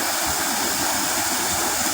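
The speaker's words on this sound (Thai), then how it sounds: "อันนี้คือชั้นที่สามครับ ของน้ำตกถ้ำเหล็ก" Water pours steadily down the third tier of the Tham Lek waterfall in Thailand, a continuous loud rushing roar with no pauses and no voices.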